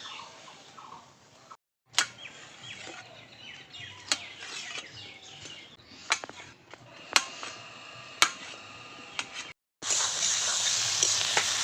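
Rohu fish roe hitting a hot oiled pan, a steady close sizzle broken by sharp clicks and scrapes, with a brief silence before the frying swells louder and brighter at the end.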